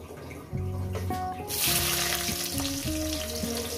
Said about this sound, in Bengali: বন্ধুরা পেঁয়াজটাকে আমি ভেজে নিয়েছি